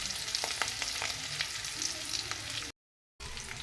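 Salt, chili powder and turmeric sautéing in a pan for a dhaba-style egg masala curry, with a steady close sizzle and light scraping stir strokes that break off abruptly for a moment.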